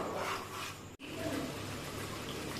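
Two glasses of water poured into a pot of masala tomato curry: a steady, close rushing gush that runs the full length, with a brief dip near the start.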